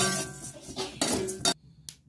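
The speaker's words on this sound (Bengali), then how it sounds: "ভালো করে নেড়ে চেড়ে ভেজে নেব" Metal utensils clink and scrape against a dry pan while flattened rice is stirred and roasted, in a few brisk bursts with short quiet gaps between them; no voices.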